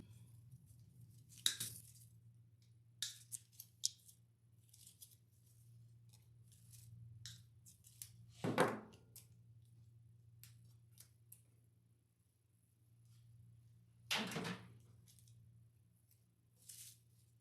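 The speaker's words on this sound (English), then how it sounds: "we'll just go ahead and cut it all up" Scissors snip greenery for an everyday wreath in a few separate, sharp cuts spread across a quiet room, with soft rustles and small clinks between them and a low steady hum underneath.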